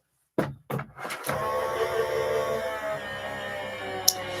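After a few sharp clicks and knocks, a craft cutting machine whirs steadily as it cuts mirror card, a close continuous motor hum with a brief click near the end.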